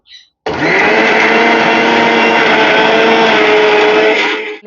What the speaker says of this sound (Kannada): ನೋಡಿ ಈಗ ರುಬ್ತಾ ಇದ್ದೀನಿ